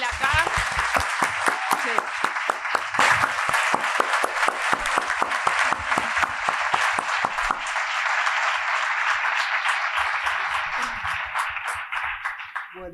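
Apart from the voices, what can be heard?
audience applause at book festival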